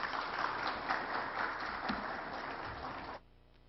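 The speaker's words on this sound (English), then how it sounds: "Please, let's give him another round of applause." A conference audience at a Kempinski venue gives the minister a round of applause, with dense clapping that carries steadily, then cuts off sharply near the end, leaving quiet room tone.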